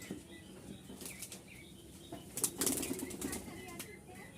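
Pigeons in a loft flap their wings in short bursts, with a louder flurry near the middle, some faint cooing and quiet movement around them.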